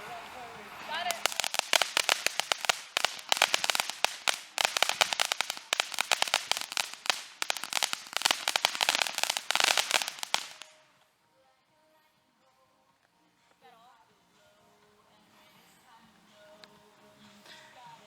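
A string of firecrackers goes off after being lit, a rapid, loud crackling barrage of sharp pops for about ten seconds, then sudden quiet with faint background sounds.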